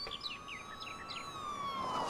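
A police car siren in the PS1 game MegaMan Legends wails in a long electronic sweep, with short chirping tones repeating over it against a quiet game background.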